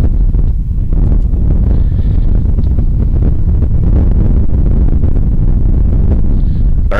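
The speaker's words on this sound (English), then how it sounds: "And blowing out to right field strong all day. Gusting now." Strong, gusting wind buffets the microphone at an outdoor high school baseball game, a loud, continuous roaring rumble that swells and surges throughout.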